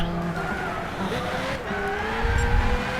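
A race car in Gran Turismo 6 snaps into sudden oversteer, its tires squealing and skidding loudly over a roaring engine, with the screech rising toward the end of the short burst.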